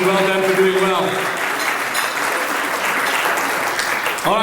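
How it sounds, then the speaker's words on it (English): Audience applause at the SA Professional Services Awards 2016 event, a broad continuous patter of many hands heard close and steady throughout, with a raised voice briefly audible over the clapping at the start. "Give him a round of applause, ladies and gentlemen."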